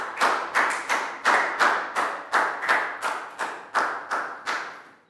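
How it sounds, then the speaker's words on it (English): Rhythmic group clapping in a Year 3 classroom for a student: about a dozen sharp, evenly spaced claps in a steady beat, close and clear with no talking. "Big round of applause for Prel."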